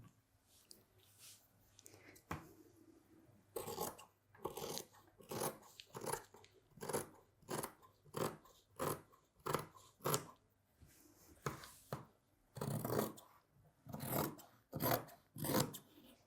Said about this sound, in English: Let's start cutting.